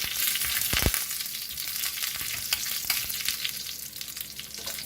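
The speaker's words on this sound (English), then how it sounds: "Stir it up a little." Curry leaves and halved red chilies sizzle in hot oil in a pan as the tempering is stirred, a bright continuous frying hiss punctuated by a few clinks and scrapes of the spoon.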